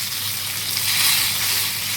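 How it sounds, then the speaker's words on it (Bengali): Climbing perch coated in spices fries hard in a pan with a steady, close, bright sizzle and crackle throughout, no voices. "আমি এই যে কই মাছ মশলা টশলা মাখায় একটু ফ্রাই করবো"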